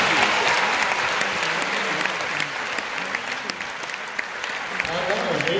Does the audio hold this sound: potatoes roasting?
no